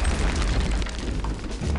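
Rocket launcher blasts in a Wolfenstein video game, deep rumbling booms with a noisy, sustained low roar of explosions, loud and close, no voices.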